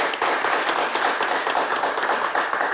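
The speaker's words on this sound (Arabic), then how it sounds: "تصفقوا عليها تصفيق أخويا برشا" A TV studio audience claps for the programme's cleaning lady, a brisk, continuous burst of many hands applauding close and fairly loud for a few seconds.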